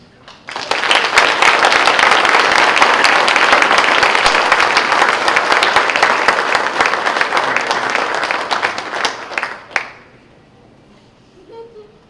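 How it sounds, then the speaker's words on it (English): An audience at a hall of fame ceremony applauds in a large hall. The dense, sustained clapping rises quickly and holds strong for about nine seconds, then fades out, followed by a faint pause. "please give a round of applause and welcome up to the podium, Jim Sinness."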